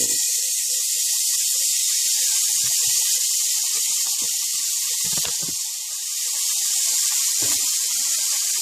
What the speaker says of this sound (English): And now I'm going to take the pork and add it to this pan that has been oiled.